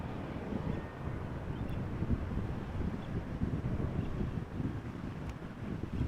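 Steady breezy wind buffeting the microphone outdoors at Amsterdam Schiphol airport during plane spotting, a continuous low rumbling roar with no other distinct sounds.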